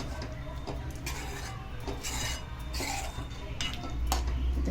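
Scraping and rubbing of a spoon stirring paneer masala with crushed kasuri methi in a pan, steady and moderately close, with brighter scrapes every second or so.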